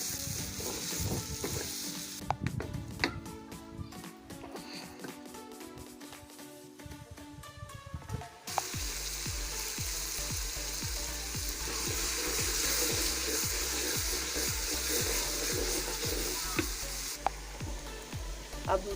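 Chilies and tomatoes sizzle in hot oil for chicken karahi, with clattering stirring and utensil knocks early on, then a steady loud frying hiss with occasional scrapes.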